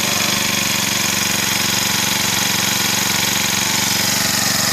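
Kretek UDT four-stroke brush cutter engine idling steadily after starting, a loud, continuous, even drone close to the microphone with no pauses.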